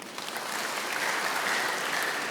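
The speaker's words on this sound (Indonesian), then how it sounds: "Yang setuju tepuk tangan bagi dia" A church congregation at a Kingdom Celebration service bursts into brief, full applause, a dense wash of clapping that holds steady for a couple of seconds.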